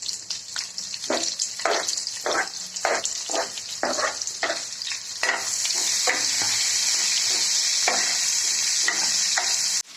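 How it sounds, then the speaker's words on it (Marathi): Onion stir-fries in hot oil for chowmein, with rhythmic scraping strokes over a sizzle that then settles into a steady, loud frying hiss. "आता यात कांदा टाकून घेऊ आणि त्यालाही तेलात मिक्स करून घेऊ."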